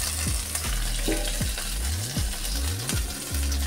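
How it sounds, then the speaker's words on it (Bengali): Chicken leg pieces sizzle loudly in a pan for chicken chaap, a dense, close, continuous frying hiss with a few low periodic thumps beneath, no voices. "আমি এখানে একটা একটা করে ভাজছি"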